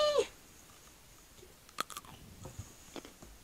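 A crisp bite into something crunchy, followed by a few faint chewing crunches in a quiet room.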